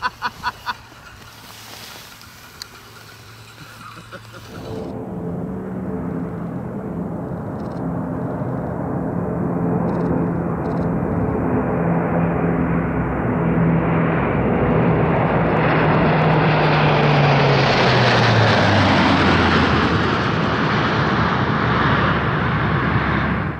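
An Airbus A400M turboprop makes a low pass, its propeller and engine roar swelling from a distant hum into a loud, broad rush with a falling pitch as it passes close overhead.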